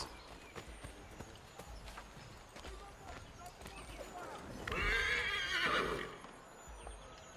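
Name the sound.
horse neighing and galloping in video game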